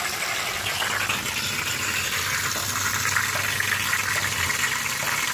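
Water gushes steadily from a pipe on a filtered well into a tank, a continuous broadband rush that stays loud and even throughout with no voices.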